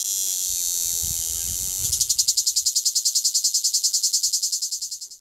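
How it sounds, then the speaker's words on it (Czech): Cicadas on the Albanian coast shrill loudly in a dense, steady high-pitched chorus that turns into a strongly pulsed, rhythmic buzz partway through, with faint low rumbling early on. "Cikády jsou hmyz neodmyslitelně spojený s jeho evropským pobřežím. Jejich hlasité koncerty zná každý, kdo byl u některého z jižních moří."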